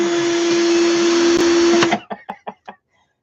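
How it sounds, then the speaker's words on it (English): Small power drill whirring steadily and loud with a high whine, then cutting off to leave a few short bursts of stop-start triggering. "love the relaxing sound of the drill"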